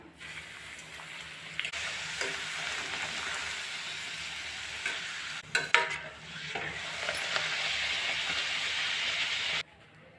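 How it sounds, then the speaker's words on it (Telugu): Puris deep-frying in hot oil give a loud, continuous bubbling sizzle that swells as dough goes in, with a brief clatter midway before the frying noise cuts off near the end. "ఇప్పుడు నేను పూరీ వేసేసుకుంటున్నాను"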